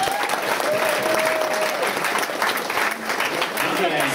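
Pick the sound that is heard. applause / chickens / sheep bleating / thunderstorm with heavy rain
applause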